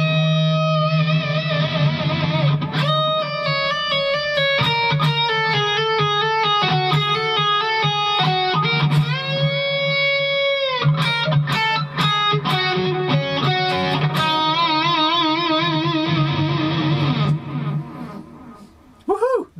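Slow, distorted electric guitar lick: fluid legato runs, bent notes and short staccato stabs, loud and close with echo and reverb, played alone and ending in a sustained ring.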